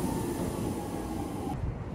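Steady rumble of a train in motion, heard from inside a carriage on a ride toward Heiwajima station in Tokyo, with continuous rolling wheel noise and no talking.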